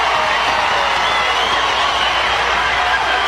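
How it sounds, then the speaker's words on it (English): Stadium crowd at a college softball game, UCLA vs. Oklahoma at the Women's College World Series, roaring in a steady, loud wash of cheering and applause with no break. "Listen to this crowd."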